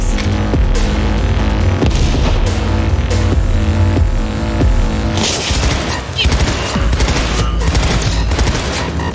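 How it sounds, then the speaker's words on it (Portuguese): Frantic gunfire during a shootout in Cyberpunk 2077, dense continuous bursts of automatic fire and heavy booms layered with game music, loud and relentless throughout. "Agora o tiroteio vai começar a ficar frenético."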